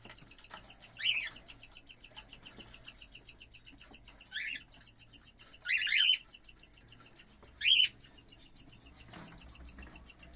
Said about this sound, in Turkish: Alihan Bey'in almadığı kuş da burada arkadaşlar.